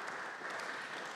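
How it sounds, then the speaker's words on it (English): An audience at a PhD graduation ceremony at Gdańsk Tech applauds, a dense, steady patter of many hands clapping at once, even and sustained throughout at moderate loudness. "Let us recognize their effort and the success with a big round of applause."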